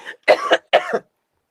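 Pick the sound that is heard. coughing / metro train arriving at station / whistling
coughing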